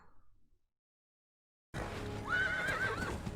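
A horse gives a loud, close whinny after a moment of silence, the neigh rising and wavering over hoof clatter and busy background noise.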